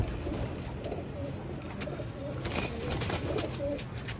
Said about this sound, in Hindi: इनके कबूतर बहुत अच्छे कबूतर हैं, ये अच्छे कबूतर हैं इनके गोल्डन